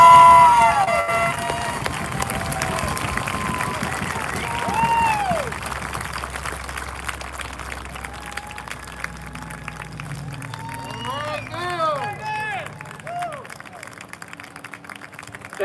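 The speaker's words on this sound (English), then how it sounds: "Please, everyone join us in another round of applause for the class of 2021." Audience applause for the Burgettstown Area class of 2021 at a graduation ceremony: a broad, steady wash of crowd clapping heard from a distance, with faint cheers and whistles rising over it in the latter half.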